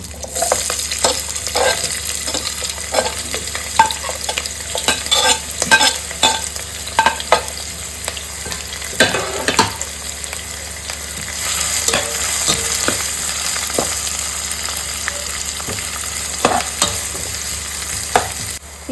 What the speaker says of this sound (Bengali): পেঁয়াজটা এখানে লাল লাল করে ভাজা হয়ে গেছে